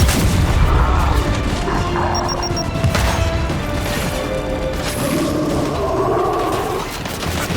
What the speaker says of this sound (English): Throwing grenade! Throwing frag!